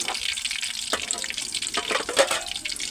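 Amudi fish pakoras fry in hot oil with a continuous crackling sizzle and occasional louder pops, fairly close.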